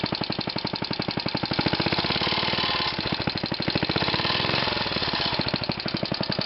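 An engine runs steadily on its mount with a fast, even knocking rattle throughout, loud and close with no voices.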